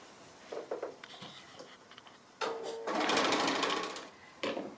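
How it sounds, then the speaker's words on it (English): A sewing machine runs around the edge of a fabric twisted pleat pin cushion, with short stops and starts and then a longer loud burst of close stitching. "So I'm just going to stitch all the way around, leaving a gap for turning"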